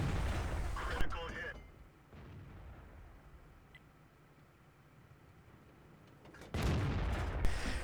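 Tank cannon fire in World of Tanks on the Sand River map: a sharp shot, a quieter stretch of battle ambience, then a loud blast near the end, with a voice commenting.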